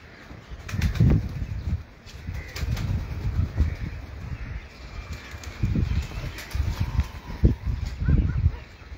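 Racing pigeons taking off and circling from a rooftop loft in Karachi during a flying competition, repeated bursts of wing flapping rising and fading, close by, with faint outdoor ambience between flurries.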